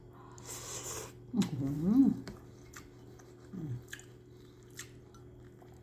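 Someone eats Mama yentafo instant noodles with sausage and softened crispy pork rinds, giving two close, wet bursts of chewing and slurping separated by a quiet pause.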